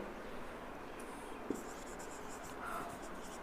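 A pen writing notes on paper: a continuous, soft scratching of the tip on the sheet, close and steady, with a small tap partway through and no talking.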